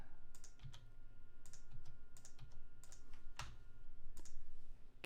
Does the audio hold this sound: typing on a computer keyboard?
yes